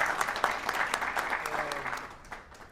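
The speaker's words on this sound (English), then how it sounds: "You can clap, it's okay" An audience applauds at a health news conference after hearing that Deion "Coach Prime" Sanders is cured of cancer. The clapping is dense and steady for nearly three seconds, then tapers off slightly toward the end.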